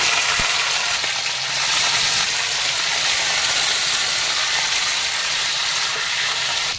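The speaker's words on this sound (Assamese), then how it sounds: "ইয়াতে বইল কৰি থোৱা মাংসখিনি দিছো" Boiled meat tipped into a hot wok over a village wood fire, giving a loud, continuous broad sizzle and hiss that holds steady for the whole stretch, close up and without talking.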